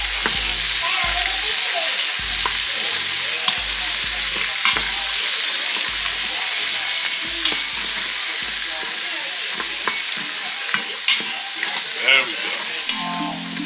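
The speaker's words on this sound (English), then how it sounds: "Saute with a little butter" Pot roast sautéing with butter in an Instant Pot, a loud continuous sizzle and hiss with repeated scraping and stirring knocks, someone speaking briefly over it.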